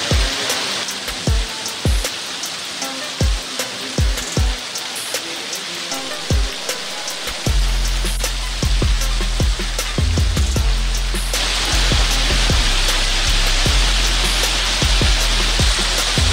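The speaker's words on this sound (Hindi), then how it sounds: "बारिश पड़ रही है" Rain with hail falling in Delhi, a loud, continuous hiss of rain on surfaces with sharp, repeated hailstone impacts and thuds throughout, growing heavier midway.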